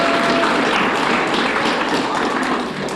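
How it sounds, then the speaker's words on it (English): Audience applause at a school gathering, a dense steady patter of many hands clapping close and loud for about three seconds, tapering slightly at the end. "give yourself a round of applause"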